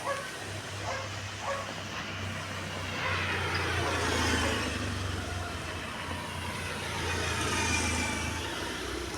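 Traffic hums along a highway at Naranamthodu junction on the road to Sabarimala, a low, continuous rumble of passing vehicles at moderate distance, swelling gently as cars go by.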